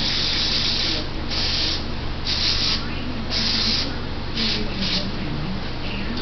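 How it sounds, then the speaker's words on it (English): Aerosol cleaner sprayed onto the tip of a carburetor jet from a Honda 110 three-wheeler: several short, loud hissing bursts in an irregular rhythm, close to the can, with no voices. "You may want to take one of your cans of spray and spray it off."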